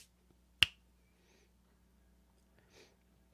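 A single sharp finger snap rings out clearly near the start during a bushcraft livestream, followed by faint breathing in a quiet room.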